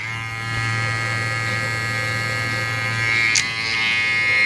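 A TPOB X Deluxe electric hair trimmer runs steadily nearby with a constant low electric buzz and faint high whine, alone and unbroken, with a brief click near the end.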